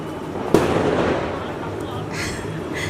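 A single sharp Diwali firecracker bang rings out, followed by a steady crackling rumble and a few fainter distant pops.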